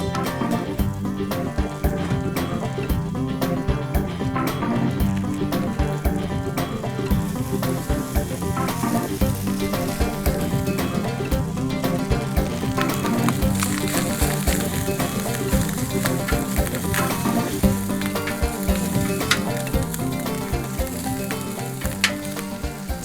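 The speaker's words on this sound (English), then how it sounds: "Once we start to get a nice little crisp on our Spam, I'm going to go ahead and add the rice." Spam and rice fry on oil on a camping grill, giving a loud, close, continuous sizzle with dense crackle throughout.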